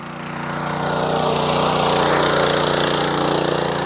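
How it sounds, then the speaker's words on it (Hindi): A small power tiller's engine runs at normal RPM while its blades churn through soil, making a steady, loud chugging drone that builds slightly at the start and then holds. "ब्लेड जुताई कितने प्यार से कर रहा है। नॉर्मल आरपीएम पे देखो आप,"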